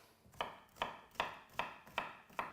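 A knife dices courgette on a chopping board in six evenly spaced, crisp taps about every 0.4 seconds, close and clear.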